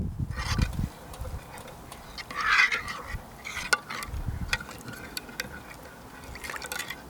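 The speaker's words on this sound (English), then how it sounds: "I'm going to stir this up." Soy sauce and lemon juice marinade with chili oil and garlic being stirred in a bowl, giving soft liquid swishing and a few light clinks, moderately close with no talking.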